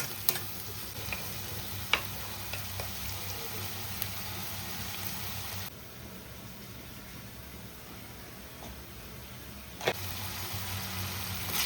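Cucumber and prawn curry gets stirred in a pan, a soft continuous sizzle with occasional sharp spoon taps against the pan, close by, briefly quieter midway, with no one speaking.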